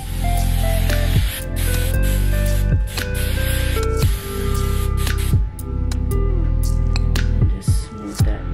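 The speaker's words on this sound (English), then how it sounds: "I am gonna take some more hairspray and spray just the bun portion." Repeated close bursts of hairspray hiss onto a ballerina bun, several sprays in a row with short pauses between them, loud and near.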